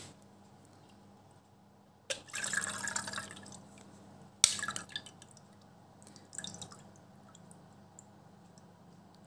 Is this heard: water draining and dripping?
yes